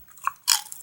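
Knockoff Doritos-style cheese chips crunched once near the mic, a sharp bright crunch after a softer small bite, with no voices.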